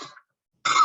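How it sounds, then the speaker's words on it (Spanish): Two short, raspy coughs during an online university class, separated by a brief silence, the second a bit louder and close by. "Una tos."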